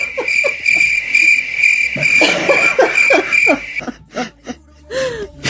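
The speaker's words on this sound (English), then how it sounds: "I thought the crickets were harsh on that." Crickets chirping as a comic sound effect after a joke, a loud rhythmic chirp pulsing steadily under other brief noises before fading into scattered sounds.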